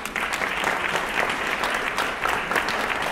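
Steady applause from an audience at a colour trend talk, dense and continuous for about three seconds without a break.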